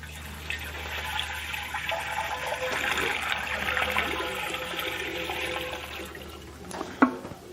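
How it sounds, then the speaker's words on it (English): Three quarts of water run steadily into a container for making a cream ice, a continuous trickling pour under a low hum, ending with a brief clunk. "So we'll put in 3 quarts of water"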